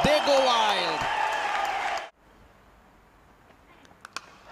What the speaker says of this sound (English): hear the crowd. They go wild.